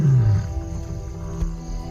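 A lion gives a deep territorial roar before a hunt in African woodland, one loud low rumble at the start that fades into the night ambience.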